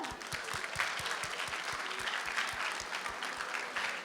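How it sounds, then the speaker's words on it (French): Sustained audience applause fills a gala hall, dense and steady clapping with no one speaking over it for the whole stretch. "une bonne main d'applaudissements pour Jim Radé, tout le monde"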